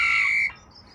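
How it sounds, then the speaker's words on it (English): A workout interval timer buzzer sounds one loud, steady electronic tone for about half a second, then cuts off into quiet. "Buzzer on."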